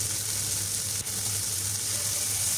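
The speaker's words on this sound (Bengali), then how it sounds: "এখন চিংড়ি মাছ আর কাঁচামরিচ দিয়ে কিছুক্ষণ ভেজে নিচ্ছি।" River shrimp and green chillies frying in oil in a pan give a steady, close, continuous sizzle with no pauses throughout.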